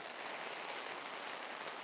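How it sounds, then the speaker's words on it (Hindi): Rain falls steadily as an even, soft hiss of drops on surfaces, quiet and continuous with no other sounds. "ये बारिश भी बड़ी अजीब है।"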